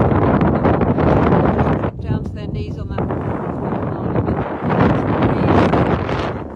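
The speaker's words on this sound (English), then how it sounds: "Really windy, and the conditions are not as easy as they might look." Strong coastal wind buffets the microphone with a loud, roaring rush throughout during a stand-up paddleboard distance race at Calshot Castle, a voice speaking briefly beneath the gusts.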